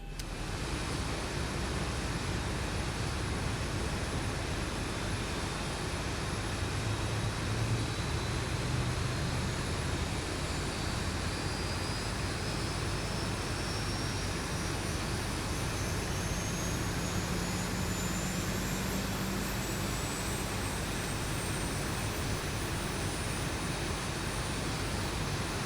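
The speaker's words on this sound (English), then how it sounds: "Okay, so that's engine number 1 coming on now." Boeing 737 engine number 1 spooling up in the X-Plane 11 flight simulator, a steady loud jet roar with a slowly rising whine over a constant wide hiss.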